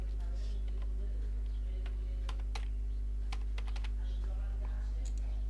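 A password is typed on a computer keyboard as sparse, irregular key clicks at close range. A strong steady low hum runs underneath throughout, and nobody speaks.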